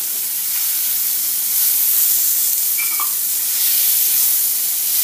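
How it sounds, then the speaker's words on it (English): Tomatoes and grapes sizzle steadily in a hot pan over a lowered flame for pumpkin sweet-sour sabzi, a continuous close frying hiss with faint stirring and no voices. "And now add tomatoes to it. Slow down the flame, and along with tomatoes it's time to add grapes."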